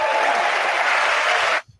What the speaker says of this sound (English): I'm going to give him applause.